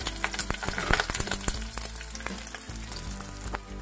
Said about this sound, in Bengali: তো আমার পেঁয়াজ ভাজা হয়ে গেছে